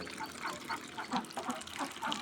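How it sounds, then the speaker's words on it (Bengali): Khaki Campbell ducks feeding on mustard oil cake at a duck farm give off repeated nasal quacks and honks in short bursts, over a busy, close background of shuffling and dabbling. "আপনারা দেখছেন এখানে আমার হাঁসগুলো খাচ্ছে। আমি এদেরকে খেতে দিয়েছি সরিষার খোল।"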